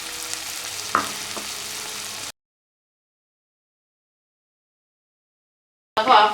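Squid frying in a pan with coriander and curry leaves, a soft sizzle with a couple of stirring clinks, then silence before a louder burst of crackling returns briefly.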